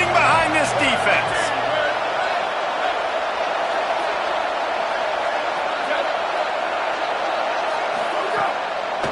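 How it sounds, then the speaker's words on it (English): Stadium crowd at a Florida versus Oklahoma college football game roars steadily on a big third down in the red zone, a dense continuous wall of cheering that holds loud throughout the clip. "this crowd is getting behind this defense"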